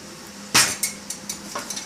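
Garlic, salt and oil being mashed in a bowl for Puerto Rican mofongo, with one sharp knock followed by a series of lighter scraping and tapping strokes close by, no talking.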